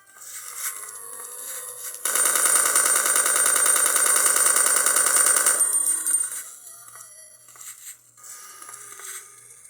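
Big-gun fire in a PlayStation 1 game running on a Retroid handheld: a sustained, rapid, chattering burst lasting about four seconds, with quieter game sounds before and after.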